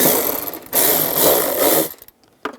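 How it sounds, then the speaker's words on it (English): A ratchet with a 10mm socket turns off a plastic nut while rear shock absorbers are replaced on a 2004-2009 Toyota Prius, giving two rapid close bursts of clicking and then a brief final click. "Use a 10mm socket, take that off."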